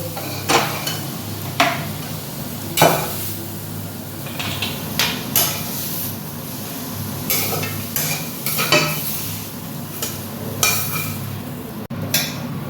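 Leafy greens (shak) stir-fry in a pan, with repeated scraping and clattering strokes of a spatula against the metal over a continuous close sizzle.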